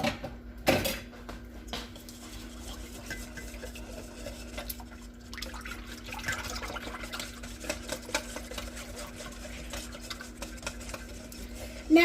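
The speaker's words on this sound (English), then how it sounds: "So I'm gonna scoop that with my whisk off the spoon and then whisk it in there." A whisk stirs jalapeño cornbread batter in a bowl, giving a soft, steady wet scraping and swishing that runs throughout at low level with a few light clinks against the bowl.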